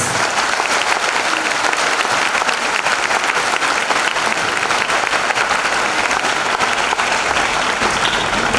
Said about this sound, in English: Ladies and gentlemen, we now huge round of applause.